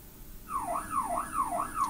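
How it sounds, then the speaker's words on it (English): An electronic alarm whoops repeatedly in a rising-falling pattern, a siren-like tone cycling about four times from a speaker, fairly loud. "Alarm sound coming from 150-degree speakers is being classified as alarm sound 157 degrees."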